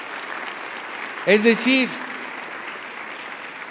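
A church congregation applauds during a Sunday sermon, a steady bed of clapping that continues while someone speaks briefly over it.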